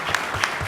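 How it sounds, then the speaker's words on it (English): Audience applause at a conference session on Black innovators' access to venture capital: a brief, loud, dense burst of many hands clapping together, with no speech over it. "Give Fatima a round of applause."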